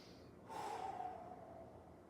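A single deep breath taken during a yoga session, a fairly quiet airy inhale that swells and then trails off over a soft background hiss.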